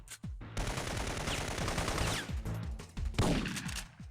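Rapid bursts of gunfire from Syphon Filter on PS1, shots striking enemies in quick succession, loud and dense throughout with a brief lull before another heavy volley near the end.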